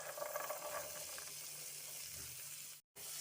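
Boiled corn sautéing in melted butter in a pan, a steady close sizzle with light stirring scrapes, cut by a brief silence near the end.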